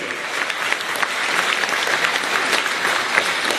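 Applause from a concert audience at a choir's anniversary event, a continuous patter of clapping across the hall with slight swells in intensity.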